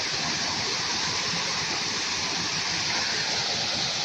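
Steady broadband rush of a hidden waterfall in Sentosa's nature discovery area, a constant close roar of falling water with no voices.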